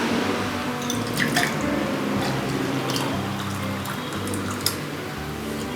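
A coconut milk drink is poured into a serving glass, a soft steady liquid trickle and splash that carries on throughout, with a few faint clinks.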